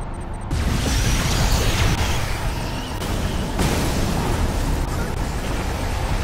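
Ion cannon strike in the real-time strategy game Command & Conquer Tiberium Wars: a loud, sustained rumbling blast that erupts abruptly and roars on, with a second surge partway through, no voices.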